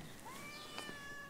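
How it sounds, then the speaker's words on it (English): Cat meowing indoors, a single faint rising meow that bends upward and trails off, heard close in a quiet room. "How is it that cats have been engineered to have exactly the sound to make humans crumble?"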